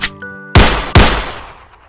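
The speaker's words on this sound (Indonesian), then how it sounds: "udah pakai pistol aja lah" Two loud, close pistol gunshots in quick succession, each a sharp crack followed by a decaying echo, after a brief tonal chime.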